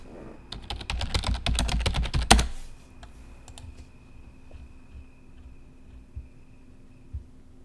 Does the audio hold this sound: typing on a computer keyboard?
yes